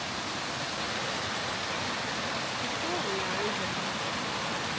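Steady, full rush of a waterfall in the Costa Rican jungle near La Fortuna, a smooth broadband roar that stays even throughout with no breaks.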